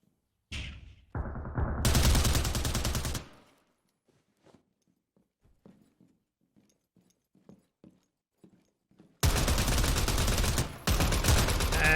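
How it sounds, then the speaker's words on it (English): Bursts of rapid automatic gunfire crack loudly in a competitive shooter match, a long volley at the start and another near the end, separated by quiet stretches of faint footsteps and movement. "RULEGHOST will win his gunfight against Spectre."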